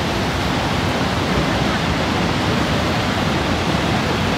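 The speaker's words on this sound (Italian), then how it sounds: "Didi, questo è Niagara." Niagara Falls roars in a dense, unbroken wash of loud noise, steady and enveloping throughout with no voices heard.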